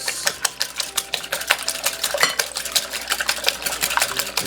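Ten eggs with dashes of salt are whisked briskly in a bowl, a steady fast run of close clinking and sloshing strokes.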